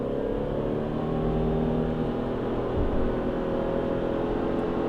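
A Subaru Forester e-Boxer hybrid with a CVT accelerates from a standstill in a 0-100 km/h run, the engine a steady continuous drone under road noise heard from inside the cabin.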